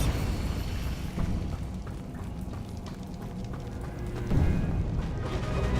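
A Bombarda spell explosion in the Hogwarts Legacy video game, heard as a deep, rumbling blast with a swell of low boom near the end amid a busy bed of game noise.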